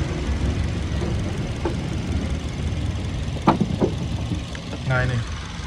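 A 2015 Suzuki Ertiga GX engine idling smoothly with the hood open, a steady low rumble throughout, with short clicks and a brief voice near the end.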